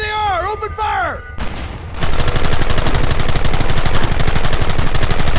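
Rapid sustained gunfire erupts in the Red Dead Redemption video game, loud dense volleys of shots after a brief whistling tone and a moment of near quiet.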